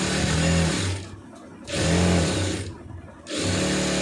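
A sewing machine stitches a churidar pant in three loud bursts of steady mechanical whirring, each about a second long, separated by short quiet pauses.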